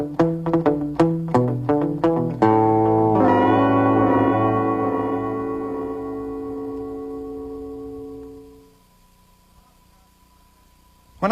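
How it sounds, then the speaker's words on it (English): Guitar played through a digital delay line: a run of quick plucked notes, then a sustained chord that blooms with repeating echoes and slowly fades to near silence, close and clear, with no talking. "But I used a digital delay line which repeats the notes I play"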